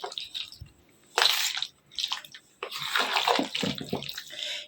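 Wet, squishy stirring of lal lobia (rajma) chaat, the spoon working through the beans and juicy chopped toppings in uneven bursts of slurping and splashing, close and fairly loud with no talking.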